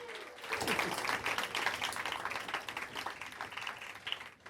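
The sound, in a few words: audience applause for Jay Yamaki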